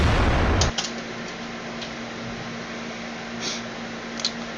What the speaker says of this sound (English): artillery hits him